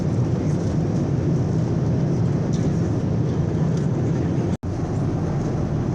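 Airplane in flight over the Faroe Islands, a steady, loud, broadband cabin roar of engines and airflow running unchanged throughout, with one brief dropout near the end and no talking.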